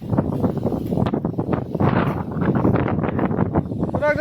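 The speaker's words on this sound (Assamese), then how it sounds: "আজি বতাহটো ভাল, ৰুইও ভাল লাগব।" Wind blows across an open farm field on a hot day, buffeting the microphone in a continuous rough rush with gusty surges.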